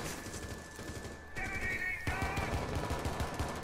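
Rapid automatic gunfire in Rainbow Six Siege, a steady stream of close, loud shots that grows heavier partway through, with game sound layered underneath.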